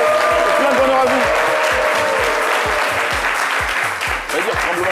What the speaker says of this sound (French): Je demande un tremblement d'applaudissements dans toute cette salle.